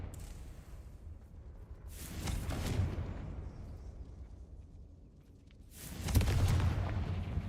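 Two booming blasts from the Confringo fire spell in Hogwarts Legacy, each a broad roaring explosion lasting around a second, separated by quieter game ambience.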